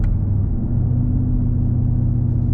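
Chevrolet Camaro SS making about 500 wheel horsepower, its engine rumbling steadily with a deep, low drone throughout, heard up close from inside the car with no talking.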